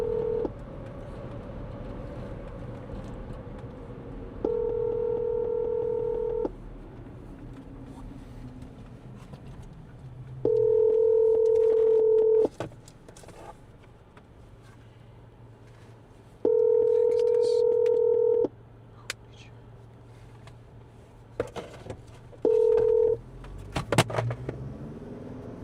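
Phone dialing tones sound as four separate steady beeps spaced a few seconds apart, each lasting about two seconds, over a low background hum with occasional clicks and quiet voices.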